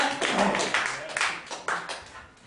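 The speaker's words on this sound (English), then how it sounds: "you all go mad with applause" An audience claps at a live comedy mind reading show, a burst of applause with distinct loud clap accents that gradually thins and fades toward the end.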